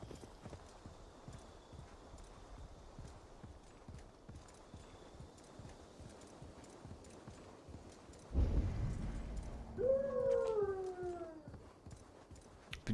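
Horse hooves clip-clopping in a steady rhythmic trot while riding in a video game, continuing throughout at moderate volume, with a loud snort and a neighing whinny near the end.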